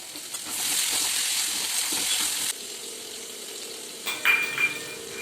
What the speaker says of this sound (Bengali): এদিকে আলুটা তো ভাজা হচ্ছে